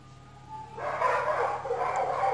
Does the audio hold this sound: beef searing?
no